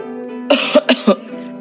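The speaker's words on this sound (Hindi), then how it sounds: "वो बूढ़ा खांसते हुए कहता है" An old man coughs in three or four harsh, close bursts, with a throat-clearing rasp in between, against a quiet background.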